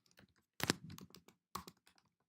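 Someone types CSS code on a computer keyboard: a quiet scatter of irregular key clicks, with two brief, louder clusters of keystrokes.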